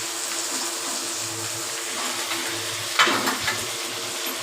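Washed chicken goes into hot oil with fried onion, garlic, ginger and chilli, a steady close sizzle with a louder burst of spitting and stirring near the end.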